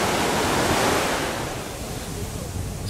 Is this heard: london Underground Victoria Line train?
no